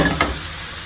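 Beef tapa frying in a hot pan gives a close, steady sizzle with a brief stirring scrape near the start. The sizzle then fades into a soft hiss.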